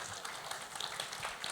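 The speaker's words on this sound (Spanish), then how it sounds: "Reciban con un fuerte aplauso a Juan Manuel Quintero." Applause from an audience welcoming a speaker to a talk on market risk management in the solidarity sector: a faint, distant, steady wash of many clapping hands with no individual claps standing out.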